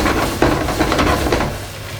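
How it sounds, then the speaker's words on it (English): Spice being stirred through chicken tagine in a pot, a wooden utensil scraping and knocking against the pan over a steady sizzle of frying, with a few sharper taps. "Give that a good stir through."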